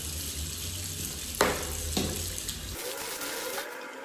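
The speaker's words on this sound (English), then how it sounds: "So let me just wash my face first." Tap water runs steadily into a bathroom sink during face washing, with a couple of splashy bursts from hands in the stream before the flow changes character near the end.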